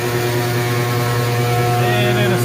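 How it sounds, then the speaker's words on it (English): An auger motor runs after starting, a loud steady low hum with tonal drone, close and continuous throughout. "Hit the start button, fire up the auger"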